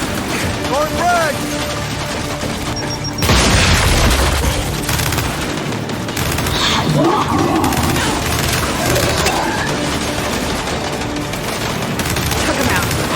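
A frag grenade goes off in Gears 5 amid heavy gunfire: one loud boom bursts out over rapid shooting, and a voice is heard in the mix.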